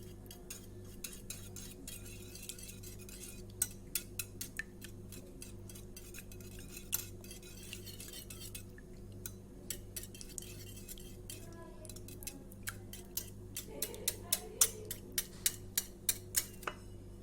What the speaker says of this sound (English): I'm going to whisk it properly and then add the sugar into it and mix it well.